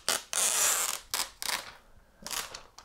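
A cardboard MacBook Pro 15-inch laptop box opens with a few short scraping and creaking bursts, one longer slide, then quieter rustles, close and moderately soft.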